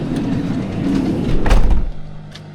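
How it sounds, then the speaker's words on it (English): A door is slid shut at a campground, a rolling rumble that builds into a heavy thud, followed by a quieter settling tail. "I gotta close the door,"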